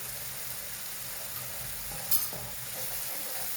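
A spoon stirs food frying in a pan with curry powder and a pinch of salt. A quiet, continuous sizzle runs throughout, with a few scraping clinks of the utensil against the pan near the middle and no talking.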